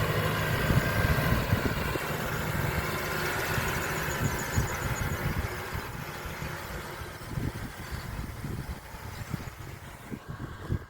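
A farm tractor engine rumbles steadily during a field cultivation pass, its low drone slowly growing fainter as it moves away.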